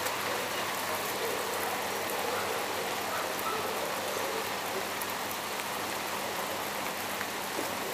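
Steady rain falls in wet weather outdoors, making a constant, dense hiss that holds at an even level throughout.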